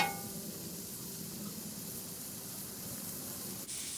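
Meat sizzles on a Blackstone flat-top griddle while being cooked for fried rice, a steady broad hiss throughout, close and even, with a brief dip near the end.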